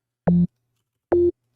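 Two short, loud, deep sine-wave bass synth notes from Serum, evenly spaced with silence between them, each a smooth pure low tone with a soft attack.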